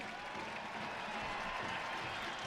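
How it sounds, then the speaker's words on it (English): Stadium crowd applauding as Joao Plata is substituted late in a Real Salt Lake vs. Portland Timbers U.S. Open Cup match, a steady, distant wash of clapping without a clear peak. "a nice round of applause for Joao Plata"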